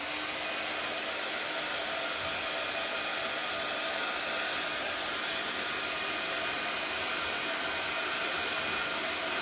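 A hair dryer blows steadily on a Christmas gnome craft, a loud constant whooshing whir close by and unbroken throughout.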